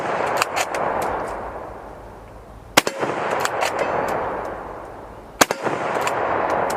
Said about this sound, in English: Let's go ahead and lob 4 of these rounds downrange.